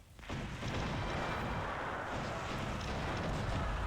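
Continuous booming artillery fire in the strategy game Cossacks, loud dense rumbling bursts starting abruptly and rolling on without pause, no talking.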